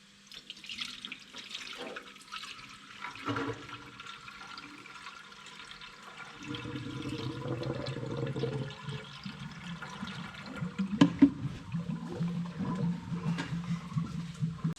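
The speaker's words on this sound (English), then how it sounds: "I'm going to fill it up with water." Water is poured into the cooling system of a Holden LC Torana four-door, a steady gurgling fill that grows fuller and louder midway, with faint clunks and handling noises close by and no talking.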